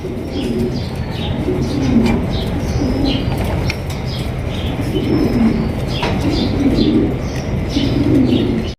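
Mondi pigeons coo repeatedly in soft, throaty phrases over a steady background hum, with occasional light chirps and wing flutters.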